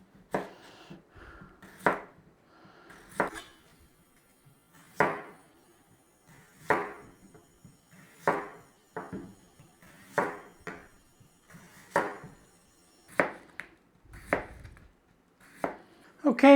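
A knife chops potatoes into 1 centimetre pieces on a board, about a dozen separate crisp thuds, some doubled, spaced irregularly every second or so, close up in a quiet kitchen.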